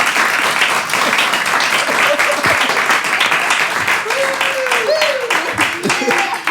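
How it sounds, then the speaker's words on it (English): A live studio audience at a comedy panel show gives sustained, loud applause, with dense clapping throughout and a few voices calling out over it. "Give them both a round of applause."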